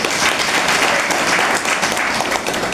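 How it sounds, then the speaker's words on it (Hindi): A congregation claps at a Sunday fellowship ministries meeting, loud, dense applause sustained across the whole stretch with slight swells. "ताली बजाओ"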